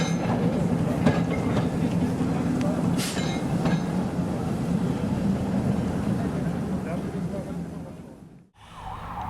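A narrow-gauge 600 mm field railway train rolls along at a railway museum in Bochum-Dalhausen, a steady rumbling ride with rhythmic clatter and occasional squeals, close and loud, briefly dropping near the end.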